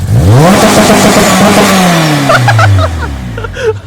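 A loud supercharged 2007 Honda Civic Si engine on a dyno revs up hard and holds near the top, bouncing against the limiter with choppy stuttering pops before dropping off.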